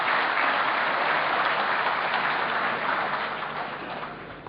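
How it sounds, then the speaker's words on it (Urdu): Steady, dense applause from the audience at an Urdu mushaira poetry gathering in Qatar, loud and continuous throughout before gradually easing off toward the end. "ہم آپ حضرات سے گزارش کریں گے کہ ڈھیر ساری تالیاں"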